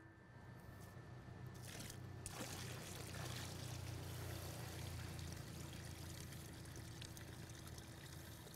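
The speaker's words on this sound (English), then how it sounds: "we're going to fill it up and then do a measurement" Water poured into a percolation test hole in the ground makes a steady, continuous rushing splash that runs loud and unbroken throughout, with no voices.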